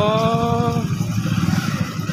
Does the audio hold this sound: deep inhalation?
no